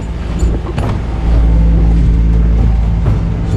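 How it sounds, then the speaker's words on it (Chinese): A sailboat's engine rumbles in a low, steady drone that rises a little in level partway through and then holds loud and continuous, with no voices. "我需要去检查发动机的状态。"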